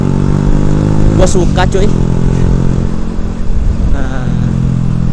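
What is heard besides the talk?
Honda Revo FI motorcycle with R9 racing exhaust revving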